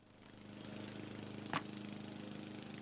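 A lawn mower drones steadily in the background of a Nancy Drew video game, its low engine hum constant throughout, with a brief brighter click partway through.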